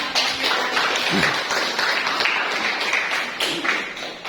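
A class or workshop group claps together after presentations. The scattered, moderately loud clapping fills a few seconds, and a few murmured voices sit underneath.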